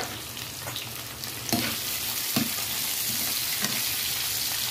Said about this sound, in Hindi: अब इसमें हम डाल देंगे कटे हुए प्याज, और प्याज को अच्छे से भून लेंगे